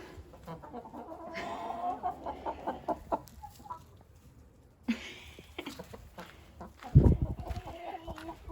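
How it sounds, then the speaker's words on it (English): A rooster and four hens cluck and murmur close by in short bursts, with one louder squawk near the end. "We've got the big fella, our rooster there, and his 4 hens."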